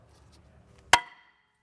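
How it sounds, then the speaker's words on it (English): A single sharp metallic clang as a hammer strikes the rear brake rotor on an Audi TT to break it loose from the hub, ringing briefly after a quiet lead-in. "I'm just going to hit this rotor since we're replacing it to break it free from the hub."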